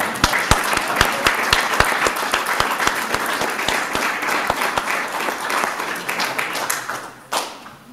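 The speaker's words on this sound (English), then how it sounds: "Let's give a great big round of applause for us all." A school alumni hall of honor ceremony audience for Lapeer High School breaks into loud, sustained applause with dense overlapping claps, fading out near the end.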